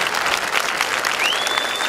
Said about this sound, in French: je voudrais qu'on fasse un tonnerre d'applaudissements